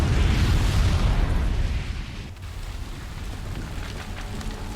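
A loud, rumbling blast in the video game Horizon Zero Dawn, with a heavy low roar that slowly fades into a crackling, debris-like hiss.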